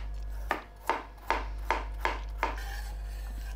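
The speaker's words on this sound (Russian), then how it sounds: "И беру еще одну небольшую морковку среднюю. Просто режу такими кружочками." Six crisp knife cuts through a small carrot into rounds on a board, evenly spaced about half a second apart, close and clear with no talk.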